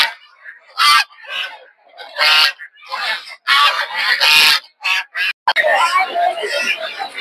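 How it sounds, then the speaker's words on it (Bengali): Raja ducks at a busy poultry market in Narsingdi, Bangladesh, honking and squawking loudly in repeated harsh bursts, close by, mixed with people talking over them. "প্রচুর পরিমাণে দেখতে পাচ্ছেন রাজা হাঁস"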